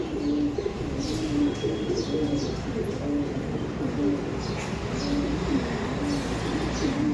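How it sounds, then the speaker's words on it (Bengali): Pigeons in a racing loft coo in low, repeating rolls throughout, steady and fairly close, with faint chirps and someone talking softly over them. "দেখেছেন পায়রা কত অ্যাগ্রেসিভ?"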